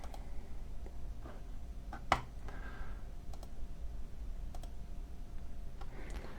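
Quiet mouse clicks while stepping through a software installer on a computer, a handful of sharp, isolated clicks spaced irregularly over faint room hiss.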